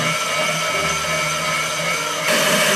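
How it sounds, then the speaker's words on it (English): A kitchen blender purees salad dressing ingredients for a detox Waldorf salad, giving a steady whirring motor drone that holds level for close to three seconds, then steps up louder near the end. "So we will now blend this very fine."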